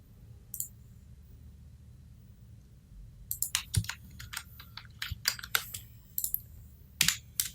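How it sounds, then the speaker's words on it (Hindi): Computer keyboard keys pressed during work in Wilcom Embroidery Studio e4.2 software: after a single early click, a quick irregular run of crisp, close taps rattles over a low steady hum, with no talking. "पॉइंट सेट करने के लिए अपने कीबोर्ड से एच का बटन दबाएं"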